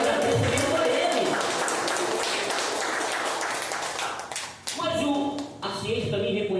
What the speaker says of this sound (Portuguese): Você poderia dar uma salva de palmas com glória a Deus bem forte e agradecer a Ele?